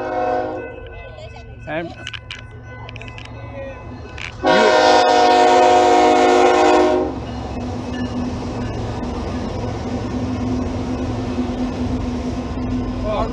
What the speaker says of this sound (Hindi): इत्तेफाक से ये एम ट्रैक की ट्रेन भी जाती है यहाँ से